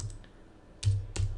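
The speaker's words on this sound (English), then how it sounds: "As I'm talking, I'm typing it in my notes," Keystrokes from typing notes on a computer keyboard: a couple of sharp, close clicks near the end, with fainter taps before, over a low steady hum and no talking.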